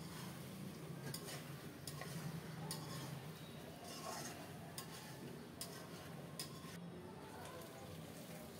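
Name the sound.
stirring fried potatoes and papaya into cooked chicken in a pan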